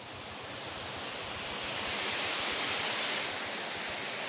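Water gushes into a canal lock chamber from a ground paddle, a steady broad rushing roar that swells slightly midway, with no voices.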